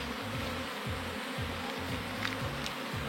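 Honeybees buzzing densely around an open hive while a beekeeper splits a colony to make a swarm, a steady close hum with no talking.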